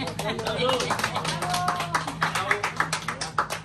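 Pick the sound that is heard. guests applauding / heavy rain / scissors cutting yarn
guests applauding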